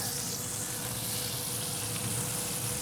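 Juicy Lucy cheese-stuffed burger patties sear on a grill with a steady, dense sizzle that stays loud and even throughout, with no voices.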